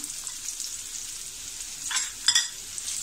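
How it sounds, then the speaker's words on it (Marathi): Finely chopped large onion frying in a tempering with curry leaves over medium heat, a soft, steady sizzle with a brief louder hiss and a stirring clatter partway through, no voices. "हा एक मोठा कांदा चिरून घेतलाय बारीक, तो फोडणीला टाकूया."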